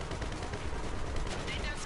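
Rapid gunfire from the GTA 5 video game, a dense continuous volley of shots with explosions that fills the whole short stretch at steady loudness, without a clear pause.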